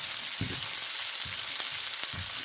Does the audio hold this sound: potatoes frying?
yes